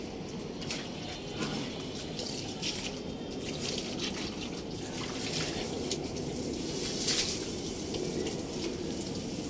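Water sprays steadily from a hose pipe while a rack is cleaned outdoors, a continuous rushing splash, fairly faint and even throughout with small fluctuations.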